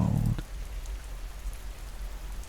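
Gentle rain falls steadily outdoors on the High Wold in the Cotswolds, a soft, even hiss that continues without a break after a brief low rumble at the start.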